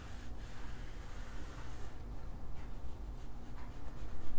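Pencil drawing on paper ahead of hand cutting for a coil junk journal, a soft continuous scratchy rubbing with slight strokes, close and fairly quiet, with no talk.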